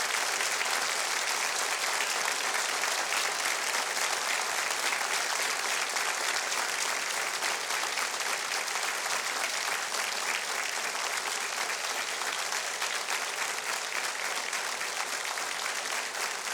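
A large audience at an event with a former U.S. ambassador applauds in tribute to those fighting in Israel. The clapping is even, continuous and sustained, heard at a moderate distance for the whole stretch.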